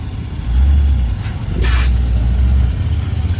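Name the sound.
traffic passing on road at classic car meet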